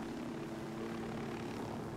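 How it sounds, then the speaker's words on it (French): Helicopter in the video game Ghost Recon Wildlands, a steady, moderately faint rotor and engine drone with a low pulsing hum, continuous and alone without speech. "je crois qu'ils ont un hélico sur place"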